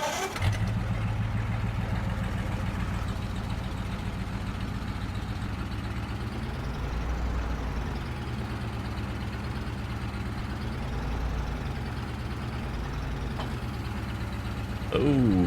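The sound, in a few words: tractor engine in Farming Simulator 22 video game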